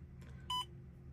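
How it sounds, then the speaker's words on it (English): A single short electronic beep from the upper bin level sensor on a Lemken Solitair DT seed drill, a clear tone sounding once and briefly over a low steady hum. "the upper bin sensor was starting to beep at me"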